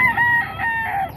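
A rooster crows at close range amid a market setting with many chickens kept in coops, a single loud, clear crow held for about a second with no talk over it.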